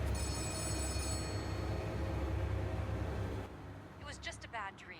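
An office telephone in the video game Letter Lost rings with a steady electronic trill over a low drone, then cuts off, leaving faint sounds at the end.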